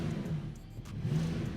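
A Porsche 911 992.2 GTS hybrid engine revs, a steady mid-pitched drone that swells slightly toward the end, heard alone and close.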